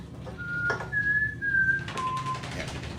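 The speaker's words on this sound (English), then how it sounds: "Do you not know how to whistle?" A person whistles a few short, clear notes of a tune, pausing between them, over low background noise and murmur at a tabletop game session.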